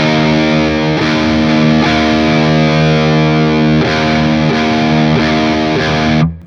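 Heavily distorted electric guitar played through a Fryette Ultralead amp modelled on a Synergy Syn20IR module, with sustained chugging chords and a few restrikes, loud and alone before cutting off abruptly at the end.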